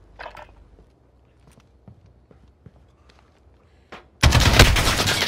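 Automatic gunfire in the Call of Duty Modern Warfare video game: after a quiet stretch of faint clicks and taps, a loud, sustained burst of rapid shots erupts and continues to the end.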